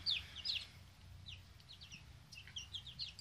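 Young chicks peeping and clucking softly in a brooder, high chirps scattered in brief clusters over a low background hum, fairly quiet and without talk.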